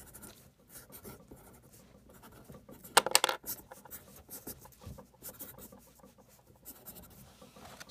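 A character is drawn quickly by hand on paper, with quiet, continuous scratchy pen or pencil strokes in fast scribbly bursts close to the microphone and one slightly louder scrape partway through.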